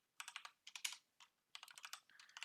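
Fingers typing on a computer keyboard in bursts of quick, crisp key clicks separated by short pauses, close and fairly quiet, with no talk.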